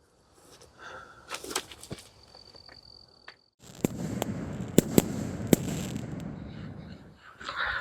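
Fireworks from 200 gram cakes go off outdoors at a gravel pit, with scattered crackling pops followed by a denser run of sharp bangs and crackle at moderate distance, separated by a short quiet gap.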